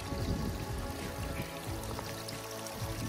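A continuous gentle stream of filtered water pours and trickles close by on a hiking trail, steady and soft, with no voices.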